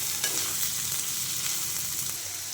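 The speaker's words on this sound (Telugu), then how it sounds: "అలా దొండకాయలు ఇలా లైట్ బ్రౌన్ కలర్లోకి వచ్చేరాక ఎంపుకోవాలి" Ivy gourd (dondakaya) pieces frying in oil in a pan until light brown, a close, constant sizzle broken by scraping stirs, with no one talking.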